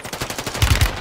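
Akimbo shotguns firing in a battle royale shooter, a rapid run of heavy, punchy blasts in quick rhythm, loud and close, the last three shots hardest.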